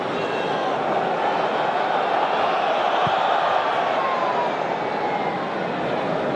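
A football crowd at Celtic Park during Celtic v St Mirren roars as a dense, continuous wash of distant voices, loud and steady throughout with no clear breaks.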